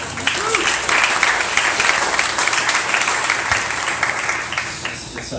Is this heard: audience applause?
yes